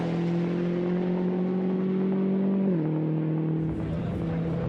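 A Volkswagen Scirocco race car with a natural gas engine at the Nürburgring 24 Hours gives a steady, loud engine drone that drops slightly in pitch partway through, with no talk over it.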